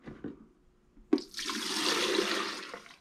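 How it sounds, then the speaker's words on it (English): Liquid, an aged eggnog mixture, being poured into a 3-liter container: a soft knock, then a steady rushing splash that runs for about two seconds and fades, close and alone. "Now, I'm pouring this into a 3-liter container."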